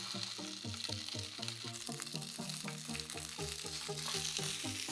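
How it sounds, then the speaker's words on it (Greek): Sausages frying in a little oil in a pan give a steady, close sizzle and crackle with no talking, though a dense run of repeated tones sits over it. "Πάνε και τα λουκάνικα, ψήνονται."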